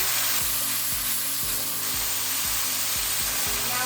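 Food frying in a pan with steady broadband sizzling, overlaid by a regular low thumping pulse roughly every half second, likely from a stirring or kitchen appliance, no voices.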